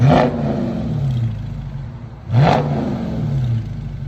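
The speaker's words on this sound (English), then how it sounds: "2020 Dodge Charger Scat Pack. This is what it sounds like before." Two loud, close revs from a 2020 Dodge Charger Scat Pack's 6.4L V8, stock before a mid-muffler delete, a couple of seconds apart, each rising sharply and falling back to a throaty idle rumble.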